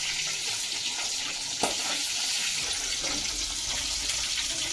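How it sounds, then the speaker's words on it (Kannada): Fish frying in hot oil, a steady hiss with a sharp spatter near the start and scattered pops after it, loud and close, with no talking. "ಎಣ್ಣೆ ಅಲ್ವಾ, ಚೂರು ನೀರು ಬಿದ್ರೂ ಸಿಡಿಯುತ್ತೆ."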